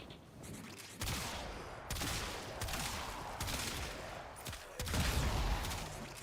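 Repeated bursts of automatic gunfire from the player's weapon in Warframe, several loud close volleys separated by brief pauses, each a dense crackling roar with heavy low thump, no talking.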